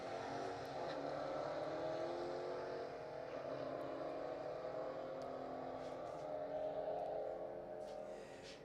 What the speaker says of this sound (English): Ryan is definitely not afraid to hot lap his race car